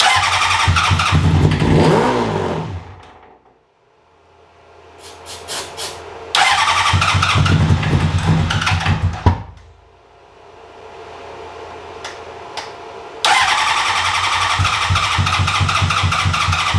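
Cranking and start attempts on a 2003 Honda CBR600RR sport motorcycle engine: three loud bursts of churning engine noise, each running a few seconds, separated by quiet pauses.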